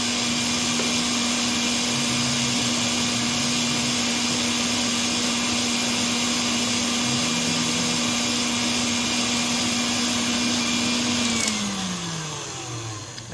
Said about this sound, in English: let me turn the mixer on and start fluffing our egg whites.